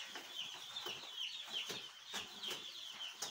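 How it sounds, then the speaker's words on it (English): Day-old chicks in a delivery box make a steady run of high, close chirps and peeps that come in quick repeated bursts. "These are day old chicks."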